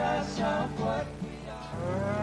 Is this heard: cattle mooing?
yes